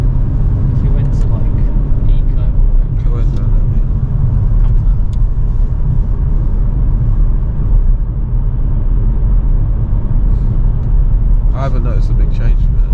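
A 2022 Audi RS3 driven at ordinary pace gives a steady, close engine and road rumble from inside the cabin, continuous throughout, with people talking over it.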